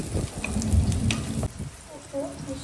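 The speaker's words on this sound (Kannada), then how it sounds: "ಮತ್ತು 2 ಮೆಣಸಿನ್ಕಾಯಿ ಫ್ರೈ ಮಾಡ್ಕೊಳ್ಳೋಣ." Two chillies fry in a pan with a little turmeric, giving a soft crackling sizzle with scattered pops and stirring clatter, close and fairly loud at first and then easing into a lighter sizzle.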